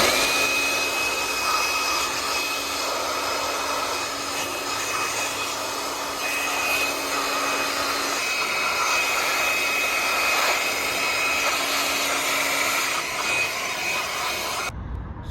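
Compressed air blasting around the glow plugs of a Nissan X-Trail 1.6 dCi engine, a loud continuous hissing roar that holds steady for about fifteen seconds and then cuts off abruptly.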